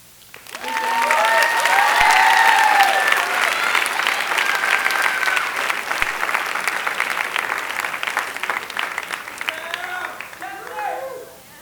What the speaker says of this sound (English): one more round of applause for our awesome student presenters